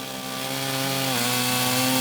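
A sharp chainsaw cuts into the sun-baked, cracked top face of a log, a loud continuous buzzing whine that rises slightly in pitch, with no talking.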